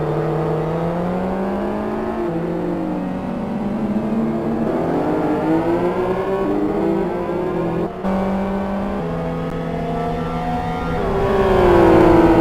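GT1 race cars in a racing video game roar loudly as they accelerate, with engine pitch climbing and then dropping abruptly at each gear shift. Several cars overlap, and one swells closer near the end.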